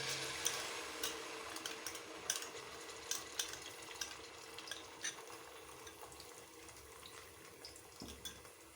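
An onion mixture is stirred in hot oil in a pan for a Nawabi chicken masala, with faint sizzling under scattered clicks and scrapes of a utensil against the pot, quiet and close.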